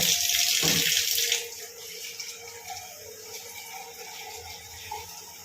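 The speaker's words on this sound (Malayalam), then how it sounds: "വെള്ളമൊക്കെ പോകുന്നതുകൊണ്ട് ഞാൻ വെള്ളം ഒഴിച്ച്" Water is poured onto a mat, gushing and splashing loudly for about a second, then draining away through it in a softer trickling gurgle.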